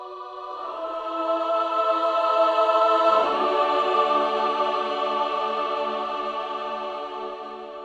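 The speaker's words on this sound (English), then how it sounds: "some chords on a choir patch" Sustained synthetic choir chords swell gradually louder, shift to a new chord midway, then slowly fade back down.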